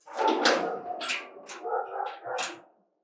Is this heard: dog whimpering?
yes